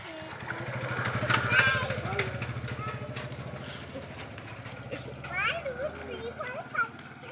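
A motorbike approaches on a rainy evening outdoors, its low engine rumble growing under a voice and children's chatter nearby.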